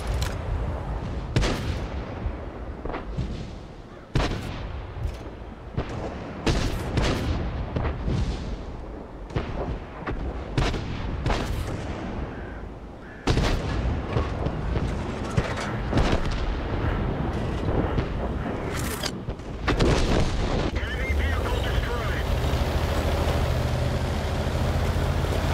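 Deep booming tank cannon shots and explosions repeat through a World of Tanks battle, loud and dense over a constant engine rumble.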